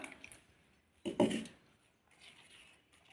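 Water is poured into a mixer jar holding thick dosa batter, heard as one brief, faint liquid splash in an otherwise quiet kitchen.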